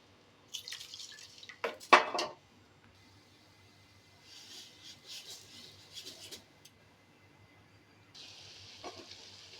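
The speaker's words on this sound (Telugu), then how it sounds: "అల్లం పచ్చిమిర్చి కొద్దిగా వేగిన తర్వాత నీళ్ళు పోసుకోండి సరిపడినంత" Water pours into a pan of frying ginger and green chillies, with a short loud splash and sizzle followed by softer intermittent sizzling bursts, close and alone without talk.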